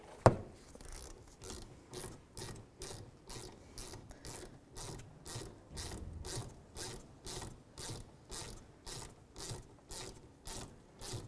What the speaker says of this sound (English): we're going to put the Allen head socket right in there and take the pin right out